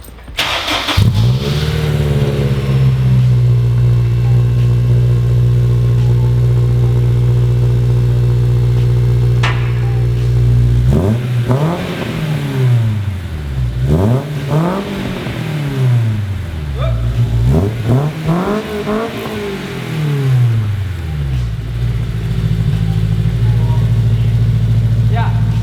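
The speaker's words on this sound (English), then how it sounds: "Official sound test here, sound test number 1, Spoon exhaust and Spoon header." A Honda S2000 fitted with a Spoon exhaust and Spoon header starts up loud and close, settles into a steady idle, then is revved in three rising and falling sweeps before dropping back to idle.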